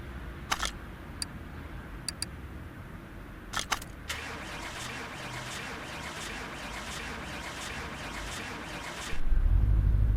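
A Mercedes-Benz 300SL Gullwing engine in a car mechanic video game gives a long start attempt, with a few sharp clicks and then steady cranking noise before a loud, low rumble bursts in at the very end.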